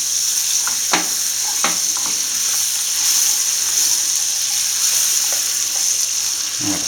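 Salted butter melts into amber caramel with a constant bright, close hiss and sizzle, and a few soft stirring clicks come through near the start and end.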